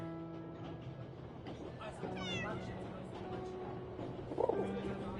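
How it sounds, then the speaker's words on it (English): A cat meows faintly in the game Memories Retold, a short call near the end beneath steady background sound, with chirps and a soft voice mixed in. "Un autre petit chat qui fait miaou."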